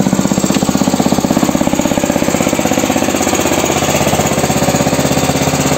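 A small homemade tractor's engine runs steadily nearby, a loud rapid mechanical chugging with a fast regular pulse that continues without a break.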